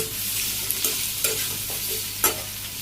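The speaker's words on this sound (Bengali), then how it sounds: "এখানে যে সিদ্ধ আলুগুলো দিয়ে দিলাম, নাড়াচাড়া করে দিই।" Boiled potatoes are stirred into fried onions in a hot pan under a steady, close sizzle. A few soft scraping strokes are spaced irregularly, with no voices.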